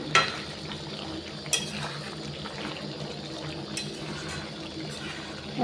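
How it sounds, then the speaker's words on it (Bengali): Chicken offal curry gravy is stirred and fried in a pan, giving a steady soft sizzle with scraping from the spoon and a few sharper clinks against the metal. It sounds close and continuous, with no voices. "দেখো কত সুন্দর গ্রেভিটা কালার হয়েছে তো এটাকে ভালো করে কষাতে হবে"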